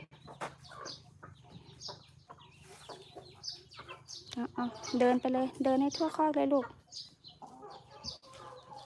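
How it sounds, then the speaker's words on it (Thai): Chickens clucking in a crowded farm pen, a run of fairly loud, repeated clucks midway through, with people talking throughout and over the birds. "ไก่เยอะมากเลย"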